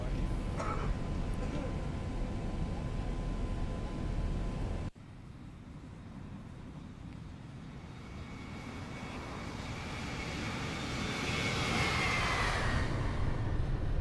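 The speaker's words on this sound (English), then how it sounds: "So we're going to do a flyby." Simulated Boeing 737-800 airliner making a low flyby in X-Plane 11, a jet engine roar that shifts abruptly partway through, then builds and swells louder with a rising whine near the end.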